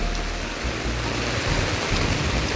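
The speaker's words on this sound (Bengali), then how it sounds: "বৃষ্টি দেখো কি অবস্থা," Heavy rain pours down in a dense, loud, continuous hiss with a low rumble underneath, close and unbroken.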